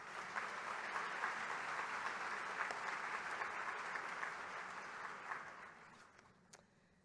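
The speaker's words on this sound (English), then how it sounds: "could you stand so that we can give you one more round of applause" An audience at a romance writers' keynote event applauds a member standing for recognition; even, continuous clapping from a large crowd that gradually fades out.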